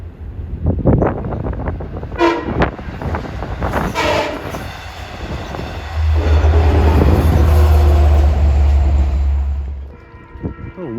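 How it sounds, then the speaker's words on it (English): A westbound Long Island Rail Road train from Montauk to Jamaica approaches, sounding several loud horn blasts followed by a long sustained horn note and rumbling wheels, close by, with brief talk early on. "Westbound approaching is train number 15 from Montauk to Jamaica"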